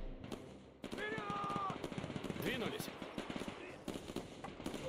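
Rapid machine-gun bursts and scattered rifle shots pour onto a building in the Men of War II battle. The crackling gunfire is dense and keeps going, with a voice talking over it.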